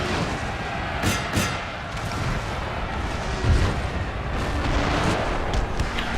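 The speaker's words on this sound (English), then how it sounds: "Start hitting these guys with artillery" Artillery barrage in a Napoleonic-era battle from Napoleon Total War, heard as dull, rumbling booms and cracks spread across a noisy battlefield din, with a couple of sharper bursts early on and a heavier thud midway.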